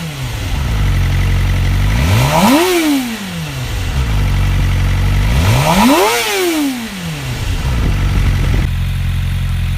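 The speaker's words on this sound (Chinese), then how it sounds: "先大家听一下排气声浪。" Suzuki GSX-R600 sport motorcycle revving its exhaust: two sharp throttle blips that rise to a high howl and fall back, over a steady idle between them, loud and close with no talking.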